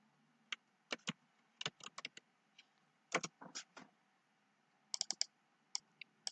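Computer keyboard typing while entering text into a spreadsheet, heard as quiet, irregular clusters of sharp key clicks separated by short pauses, close and without any talk.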